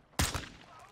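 Two muffled, sharp pistol shots from a silenced handgun in a Call of Duty Modern Warfare 2 campaign mission, the first louder with the second following a moment later, then a quiet tail.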